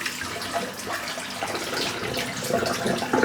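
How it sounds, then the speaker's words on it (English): Water draining from a bathroom sink after a head shave, a continuous gurgling, splashing flow that swells slightly toward the end. "So I'm just going to empty the sink out."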